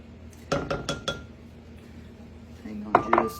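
Two eggs going into triple chocolate chip muffin batter: a quick run of four sharp clinks and taps against a bowl up close, a lull, then two more knocks near the end, with no talking.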